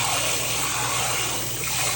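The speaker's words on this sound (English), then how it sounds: "I'll wash it about 5 times until it's clear." Thai jasmine rice is rinsed in water, giving a continuous loud rushing, splashing wash of running water that holds steady for the whole stretch.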